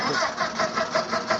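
Truck engine in Roblox, a steady mid-pitched rumble with a regular pulsing throb, loud and close, running continuously through the short stretch.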